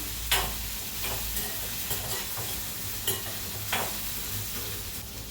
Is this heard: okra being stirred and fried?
yes